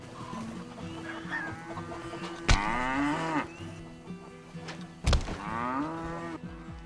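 Cattle moo loudly twice in a farmyard in Red Dead Redemption 2, each low bellow swelling into a long call, with a Devon bull among them and chickens clucking softly in the steady background.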